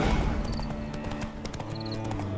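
Horse hooves clip-clop at a steady gait in The Witcher 3 video game, a rhythmic series of close hoofbeats over a mid-level ambient bed with a faint harness jingle.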